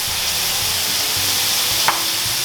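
Zucchini simmering down in sauce in a pan gives a steady, close sizzle and bubbling hiss, with one brief stir or scrape near the end.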